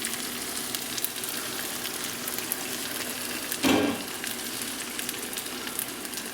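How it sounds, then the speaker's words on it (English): Chili simmering and frying in a pot, with a steady sizzling hiss throughout and a brief louder scrape of stirring partway through; no one speaks. "So let's get this out and stir it one last time"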